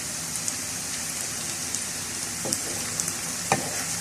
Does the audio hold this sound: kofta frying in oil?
yes